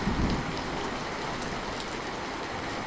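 Steady rainfall, a dense hiss of drops pattering on surfaces, continuous and fairly close, with no voices.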